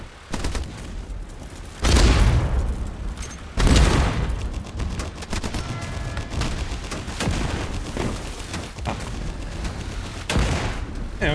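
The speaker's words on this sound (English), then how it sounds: "Of course you don't use cannon, you use the machine guns." Ship-mounted machine guns fire in the naval combat video game Age of Water, with loud bursts of rapid gunfire and heavy booming impacts repeating over several seconds against a constant battle din.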